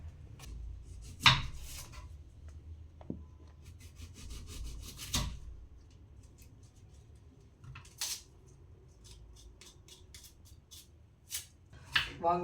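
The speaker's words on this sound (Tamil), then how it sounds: "வெங்காயத்தை வெட்டி எடுத்து வச்சுக்கலாம்." A knife slicing onions on a cutting board while making mushroom biryani, a few sparse, quiet cuts and scraping strokes spaced irregularly through a soft room background.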